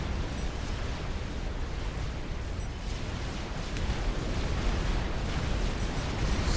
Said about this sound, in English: So many torpedoes.